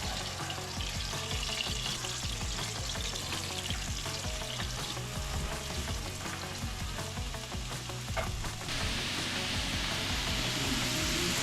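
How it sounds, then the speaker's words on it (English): Vegetables seared in hot oil in a pan for homemade ramen, giving a dense, continuous close hiss of frying that stays even and loud throughout, with no talking. "now that the veggies and stuff are kind of in the pan, searing it up"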